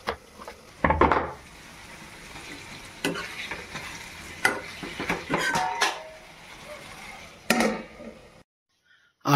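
Onion and slightly sour tomato cooking in a pan over a low flame, a low sizzle with several scraping stirs and clatters of the utensil, then a brief silence at the end.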